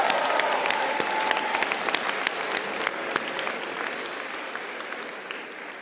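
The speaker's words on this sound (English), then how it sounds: "You can applaud." At a Clarkson University spring undergraduate commencement ceremony, a large audience applauds loudly and steadily, a dense wash of clapping that lasts the whole stretch and fades slightly toward the end.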